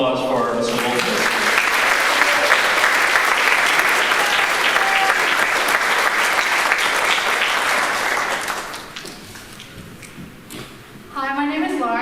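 Concert audience applauding at a high school band concert, a dense, loud, sustained clatter of many hands that fades after about eight seconds, followed by a quieter stretch and a voice speaking near the end.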